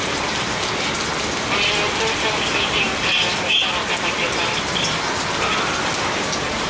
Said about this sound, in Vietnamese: trong điều kiện mưa rất là lớn